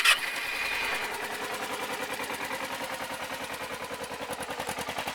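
A 2009 Kawasaki Ninja 250R motorcycle cranks and fires up cold with no choke, settling into a steady, rapid, close-up idle that pulses evenly throughout.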